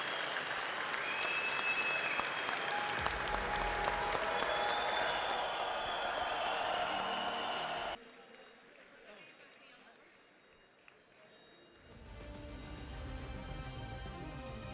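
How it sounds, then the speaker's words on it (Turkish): Applause from a gathered crowd as the first Togg, a Turkish domestic car, comes off the production line and is sent off, loud and steady at first, then a quieter lull before clapping and crowd noise swell again, with voices mixed in. "Alkışlar eşliğinde TOG'umuzu uğurluyoruz"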